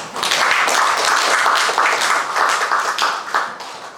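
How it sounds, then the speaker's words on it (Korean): An audience at a Korean political address by a city mayor breaks into applause, a loud close burst of many hands clapping with individual claps distinct, steady for several seconds before tapering at the end. "이때 박수 한번 언론님께서 한번 주셔야 되겠습니다"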